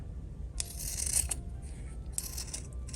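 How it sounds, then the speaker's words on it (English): A few quick, crisp snips of scissors trimming fabric around a sewn slim wallet made from leftover cloth, close and faint over a low background hum. "So I'm gonna go and trim around."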